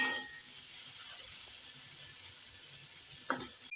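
Steady crackling sizzle of eggplant frying with neem leaves in hot oil over medium heat, close and continuous, with a brief scrape near the end.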